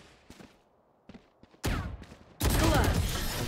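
Gunfire in the video game Valorant: a few faint early shots, then a sudden loud burst followed by a sustained heavy barrage, near and dense, with no talk.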